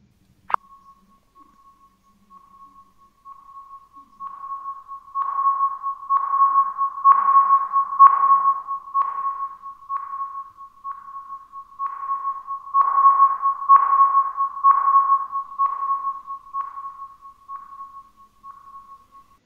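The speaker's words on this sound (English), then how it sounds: "a specialized sound is emitted from the teleport destination when pointing to teleport, indicating both direction and proximity" A virtual reality teleport destination gives off a steady guidance tone for blind users, a pure sonar-like beep that pulses and swells louder and softer, repeating evenly and heard alone and close.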